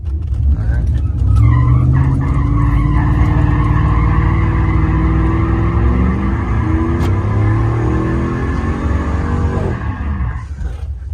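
A race car engine roars steadily while tires squeal and skid as it spins out, loud and sustained, with voices faintly underneath.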